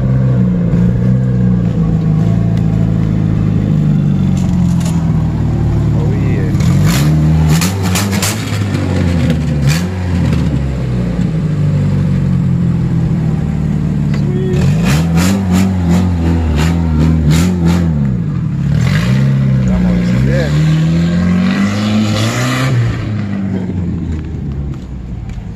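A custom all-wheel-drive Honda/Acura engine runs loud and close for about twenty-five seconds, swelling through several revving surges before settling back to a steady drone, with no talking.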